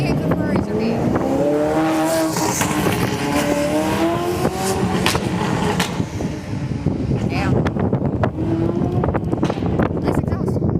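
A car exhaust roars and revs loudly nearby at an outdoor Cars & Coffee meet at the USS Hornet Museum, with rising and falling pitch sweeps, mixed with wind buffeting the microphone.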